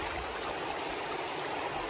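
A river stream in the Cantabrian countryside flows with a constant bright rushing and babbling of water, close and steady throughout, with no voices.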